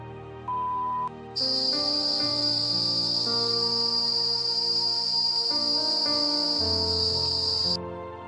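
Cicadas in a petai tree give a loud, steady high-pitched buzz that begins after about a second and holds almost to the end, over a mix of lower layered tones.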